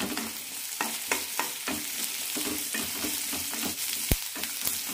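Onion, ginger and green chillies sautéing in a pan, a constant close sizzle broken by repeated scraping strokes of a spatula, with one sharper knock near the end and no voices.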